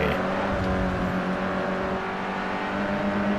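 Race cars in Forza Motorsport 4, a Fiat Punto EVO Sport spec series race, give a steady, loud engine drone with revving and whirring throughout, without any pause.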